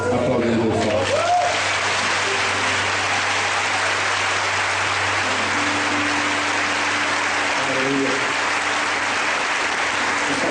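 A church congregation bursts into loud, sustained applause, a thick roar of many hands close and steady for several seconds, with a voice and faint music briefly audible beneath it at the start.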